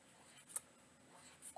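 A pen or marker writes words on paper during an art class, giving faint, soft scratching strokes with a couple of small taps, close and quiet, with no talk.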